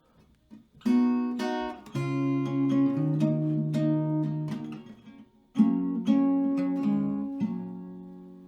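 An acoustic guitar plays a slow melody of plucked notes and ringing chords, each note left to sustain, with a short pause partway through.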